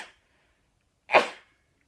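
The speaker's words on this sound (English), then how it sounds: "I'm going to sneeze." A person lets out a single abrupt sneeze up close, a short loud burst with a breathy release after a brief quiet pause.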